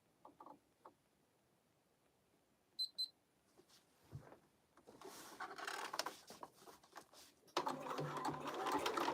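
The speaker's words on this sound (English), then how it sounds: "And then we're going to top stitch." A sewing machine top stitches a crossbody bag in uneven bursts that grow louder toward the end. Light clicks and handling noises come first, all fairly close.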